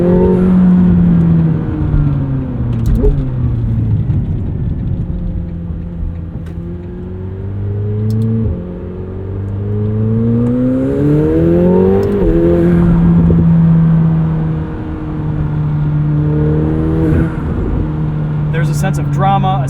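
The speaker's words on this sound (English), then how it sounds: "this 4-liter V8 sounds a little bit more exotic than it did in the 720S, which just made a lot of boost noises" A 2025 McLaren 750S with a 4-liter V8 pulls hard, its engine note rising through the revs and dropping at each gear shift, loud and close from inside the cabin, with voices heard over it.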